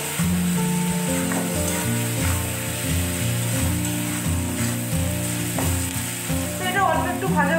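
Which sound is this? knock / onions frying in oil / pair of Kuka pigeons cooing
onions frying in oil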